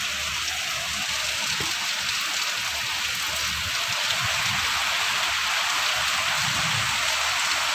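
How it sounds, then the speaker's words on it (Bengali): Heavy evening rain pours down without a break, a dense steady hiss of water close by that fills the whole stretch with no voices. "প্রচণ্ড বৃষ্টি, প্রচুর প্রচুর বৃষ্টি হচ্ছে।"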